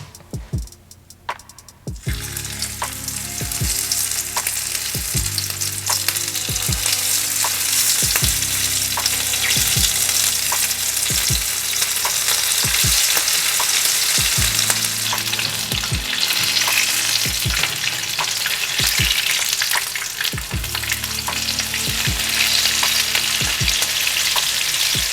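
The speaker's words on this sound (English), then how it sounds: "we're gonna fry these tacos until they're golden brown" Potato and shrimp tacos frying in hot oil, a loud dense sizzle that swells after a quiet start and holds steady, broken by regular light taps and clinks from utensils against the pan.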